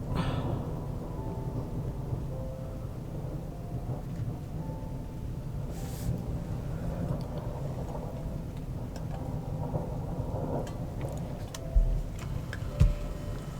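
Deep thunder rumbles low and continuous for a long stretch, steady and relaxing, with a few faint ticks and taps over the top and no talking.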